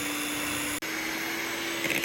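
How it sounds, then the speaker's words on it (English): A cheap 300W five-speed electric hand mixer beats chocolate fudge brownie batter with a steady, close motor whir. The sound has one brief dropout partway through, and no one speaks. "Cheap budget hand mixer."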